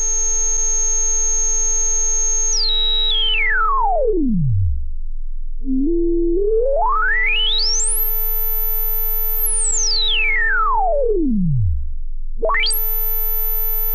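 Tone from a Moog Mother-32 analog synthesizer with its filter swept repeatedly: a steady buzzy note whose brightness falls away to a low rumble, then rises back to a piercing top and drops again, loud and alone with no talking.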